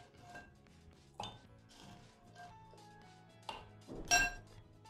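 Ice cubes dropped into a glass of sharbat, heard as a few separate clinks and knocks against the glass with a louder, brighter clatter near the end and quiet pauses between, with no talking.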